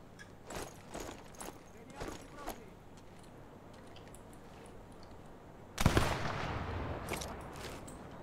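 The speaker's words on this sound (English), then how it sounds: "Maybe I'll just shoot from the bush." A sniper rifle fires once in Sniper Elite 4 as a sharp, loud crack with a rolling tail, after a stretch of soft clicks and muffled game movement.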